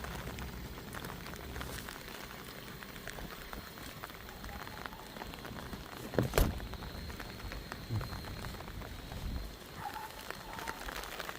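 Rain falls steadily during a flood, a dense, even patter heard up close with a brief louder knock partway through and faint background activity.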